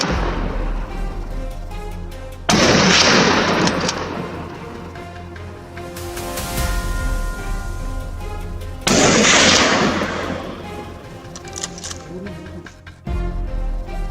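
Rifle shots ring out at wild boars across rugged terrain, a few loud cracks with long echoing tails rolling off the hills, heard under talk and outdoor ambience.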